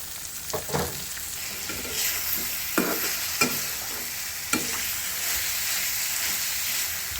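Chopped onion and garlic sizzle in hot oil for a dried loitta fish bhuna, a continuous hissing fry broken by several sharp scrapes and knocks of a stirring spoon against the pan.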